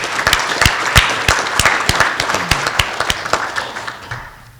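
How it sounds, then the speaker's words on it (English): A conference audience claps in a modest round of applause, with distinct individual claps standing out in an irregular rhythm before the clapping fades out toward the end. "So please give them a round of applause."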